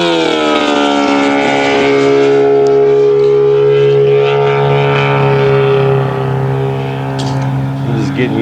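A giant scale RC F8F Bearcat model plane with a powerful 21-horsepower engine runs smoothly at a steady, loud drone, with strong tonal harmonics held close for several seconds and only slight shifts in pitch.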